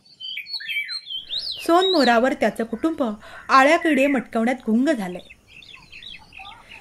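Indian golden oriole calling from a silk cotton tree, a few clear whistled notes up front, then a narrator talks over faint further bird calls.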